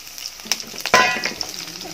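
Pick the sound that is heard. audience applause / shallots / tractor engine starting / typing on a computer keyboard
shallots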